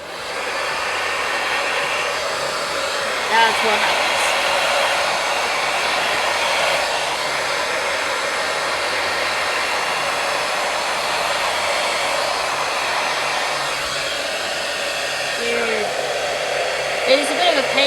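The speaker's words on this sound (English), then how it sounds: "I just use the lowest setting on the hairdryer." A hairdryer on its lowest setting blows to heat-set hand-dyed embroidery floss, giving a continuous airy whir close by, with a brief spoken line partway through.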